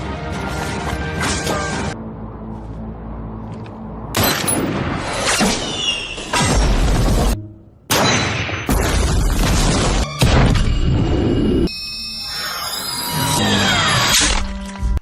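Bomb explosions in a war film about Chinese snipers fighting in the Arabian Peninsula: a series of loud, booming, crashing blasts in separate bursts, with short gaps of quieter rumble between them and no talk.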